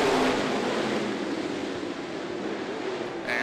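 Super late model race cars roar past at a short-track speedway, throttles opening into a dense, loud wash of engine noise that swells and blends, with no voices.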